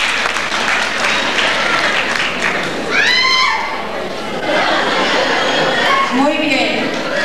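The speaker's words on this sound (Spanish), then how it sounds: "Un aplauso para ella." Audience clapping at a community cultural night pageant, sustained throughout with cheers and excited voices rising over it, some whooping and laughter mixed into the crowd.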